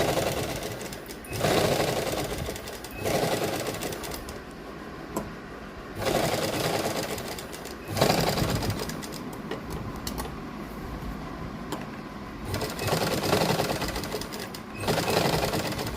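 A sewing machine stitches piping onto cloth, running in repeated whirring bursts of a few seconds each, separated by short pauses as the fabric is guided, close and clear.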